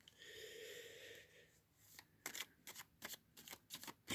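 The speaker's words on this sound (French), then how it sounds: "Alors je vais tirer quelques cartes pour voir" Playing cards riffled and shuffled for a card reading, first a long continuous shuffle, then a quick run of crisp separate snaps and flicks, close and fairly soft, with no talk.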